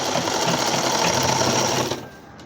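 A sewing machine stitches a baby cap, running in a loud, steady, close whir for about two seconds and then stopping abruptly.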